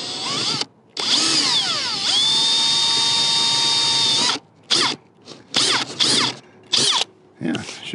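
A power drill bores a hole through the insulated wall of an RV camper, its motor whining loudly and shifting pitch as the bit bites, followed by several short stop-start bursts.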